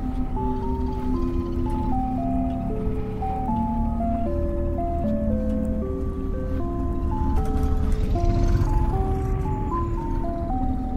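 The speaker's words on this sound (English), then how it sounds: "Yeah, ice cream truck is back again." In Decimate Drive, a vehicular combat video game, an ice cream truck returns, its tinkly chime melody looping steadily above a continuous low engine drone, clear and uninterrupted, with no speech.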